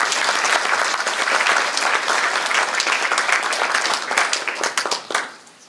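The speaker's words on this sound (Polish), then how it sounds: "gorące brawa" Warm applause for flag bearers from local schools at a town Independence Day ceremony on 11 November in Mogielnica, Poland: dense, steady clapping from a sizable crowd that holds for several seconds, then thins and fades at the end.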